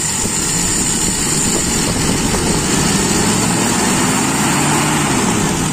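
A Toyota Kijang Super engine runs steadily and close, a constant buzzing drone from idle into the primary throttle stage with no clear break or stumble.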